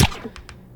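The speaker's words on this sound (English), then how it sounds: "Then we have the fireball throws." Fireball throw effect built from white noise: a sharp whooshing burst at the start, dying quickly into a faint crackly tail with a few soft pops.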